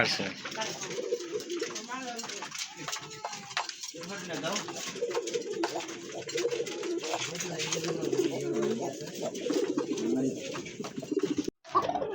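Two matching full-marked pigeons coo repeatedly at a breeding loft, the soft throaty calls running steadily through the clip under nearby people talking, with a short silent gap near the end.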